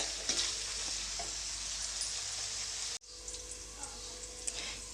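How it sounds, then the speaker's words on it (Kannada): Capsicum frying in a little oil for fried rice, a continuous close hiss and sizzle that cuts off abruptly and then resumes softer with light stirring clicks. "ಕ್ಯಾಪ್ಸಿಕಮ್ಮನ್ನು ಹಾಕಿದ ಮೇಲೆ ಎಣ್ಣೆಯಲ್ಲಿ ಒಂದು ನಾಲ್ಕರಿಂದ ಐದು ನಿಮಿಷ ಇದನ್ನು ಚೆನ್ನಾಗಿ ಫ್ರೈ ಮಾಡ್ಕೊಳ್ಳಿ"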